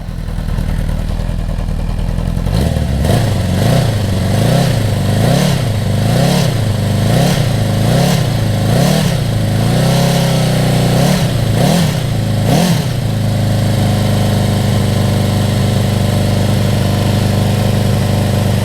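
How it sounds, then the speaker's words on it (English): A Honda CB750 motorcycle engine with a new stator, rotor and brushes idles, then is revved in about ten quick, loud, evenly spaced blips before settling back into a steady, close idle; no one speaks. "And as I rev it up, it should charge more."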